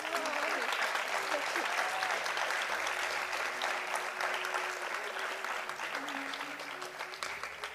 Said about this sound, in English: A big round of well-deserved applause.